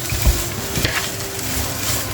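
Vegetables simmer softly in a pan for a Korean-style chicken dish, a steady low bubbling sizzle with a few light knocks near the start, close and without talk.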